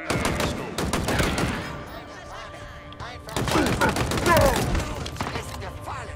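Rapid gunfire from a weapon in the Halo Infinite campaign, dense bursts of shots in two clusters with a brief lull between, loud and busy with game sound effects.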